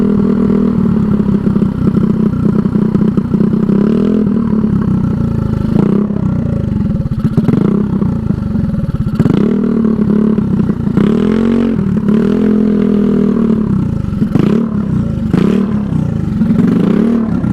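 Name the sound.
Honda Ruckus scooter engine idling roughly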